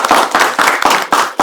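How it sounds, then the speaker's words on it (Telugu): Close, loud hand clapping from a talk show audience, coming in quick, evenly spaced rhythmic bursts. "give him a big applause"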